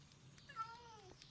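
A Minecraft cat lets out a single short meow, faint and clear above quiet background ambience, with no talking.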